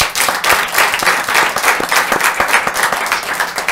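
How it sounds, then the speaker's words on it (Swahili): Audience applause breaks out at a Nairobi gathering for a Mwiki ward representative: sustained, dense clapping from a crowd, loud and steady for the whole stretch with no talking over it. "Wapi makofi yake?"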